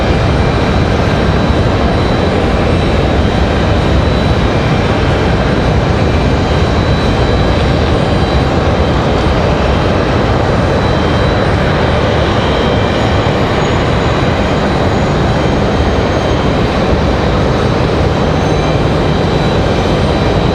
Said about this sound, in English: Very smooth touchdown for Alaska Airlines.